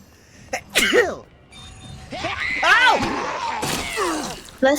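A person sneezes once, sharp and sudden, among video-game sound effects and other voices.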